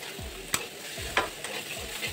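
Spices roast in a pan over high heat for a Bharwa Torai (stuffed ridge gourd) dish, with a soft steady sizzle broken by a few sharp scraping strokes of a spoon stirring.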